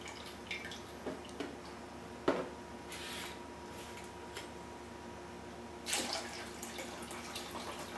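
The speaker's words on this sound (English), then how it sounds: "You pour in enough that it'll cover all the grape leaves." Liquid is poured over stuffed grape leaves in a pot, making faint, scattered splashes and drips with a few louder spills.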